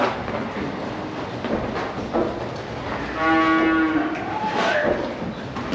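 A cow moos once, long and low, inside a busy cattle barn with a constant background of stable noise.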